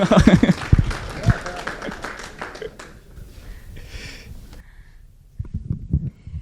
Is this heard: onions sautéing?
no